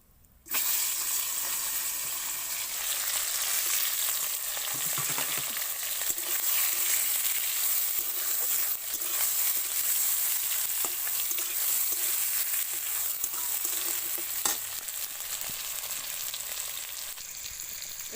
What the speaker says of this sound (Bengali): হলুদ দিয়ে আমি চিংড়ি মাছটা ভেজে নেব